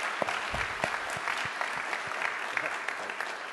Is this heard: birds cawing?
no